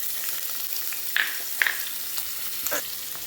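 Garlic frying in hot coconut oil for pepper chicken gives a steady, dense sizzle up close, with a few brief stirring scrapes breaking through.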